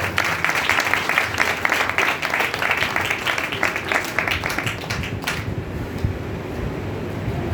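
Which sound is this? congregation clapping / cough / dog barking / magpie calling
congregation clapping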